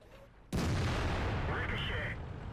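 A tank cannon shot in World of Tanks hits with a sudden loud blast and a short metallic ring as it ricochets off a turret, leaving a sustained rumble afterward.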